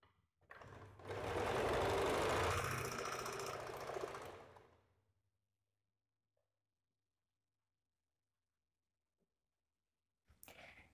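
Sewing machine running a stitch along a folded sleeve hem for a puff sleeve, one steady loud burst of about four seconds, then near silence before a brief noise at the end.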